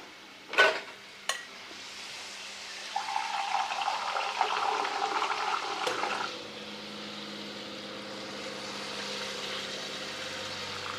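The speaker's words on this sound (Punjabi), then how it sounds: "ਹੁਣ ਆਪਾਂ ਇਹਦੇ ਵਿੱਚ ਪਾ ਦਿੰਦੇ ਆ ਪਾਣੀ" Water poured into frying masala for omelette curry: a couple of sharp knocks, then a rushing pour and gurgle lasting a few seconds, settling into a quieter, steady simmering hiss.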